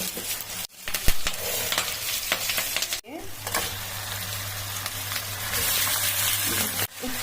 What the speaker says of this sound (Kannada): ಈರುಳ್ಳಿ ಹಾಕೊಳ್ಳೋದ ಎಣ್ಣೆ ಕಾದ್ಮೇಲೆ